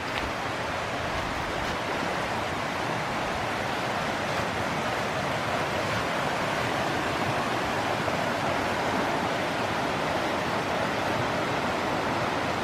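The Little River flows beside a hiking trail in the Great Smoky Mountains in November, a steady, even rushing wash of water, close and unbroken, with no voices.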